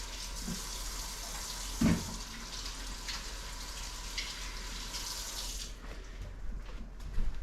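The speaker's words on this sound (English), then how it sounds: "Wash my hands off." Kitchen tap running while hands are washed, a steady close hiss of flowing water with a brief splash midway before the flow cuts off near the end.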